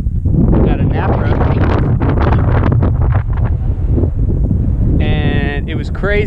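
Loud, continuous wind roars and buffets across the microphone during free flight under a 16 m Dudek Warp paraglider wing in high winds, with a voice talking under the gusting rush and a brief whistling tone near the end.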